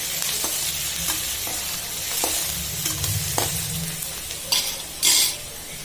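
Crushed small shallots sautéing in a pan for pepper garlic rice, a steady close sizzle with stirring scrapes and a few louder utensil clatters near the end.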